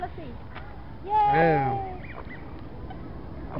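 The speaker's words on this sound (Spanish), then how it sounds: "Aquí miramos el lago donde están los patos en la ciudad de Bell Garden." Ducks at a city lake being fed bread give a loud honking quack near the microphone, heard over constant outdoor background noise.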